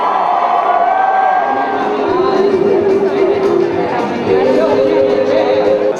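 Vast crowd gathered outside the palace for a royal wedding roars and cheers steadily, a thick unbroken wash of voices with occasional whoops rising above it.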